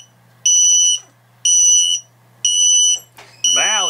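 GoFlyRC drone finder beeper sounding a loud, shrill alarm tone in four regular half-second pulses, close up, with a voice breaking in briefly near the end.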